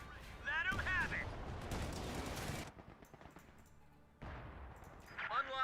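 Gunfire in the WWII strategy game Company of Heroes 2, bursts of machine-gun and rifle fire rattling for a couple of seconds, a quieter pause, then more shooting, with voices speaking over it.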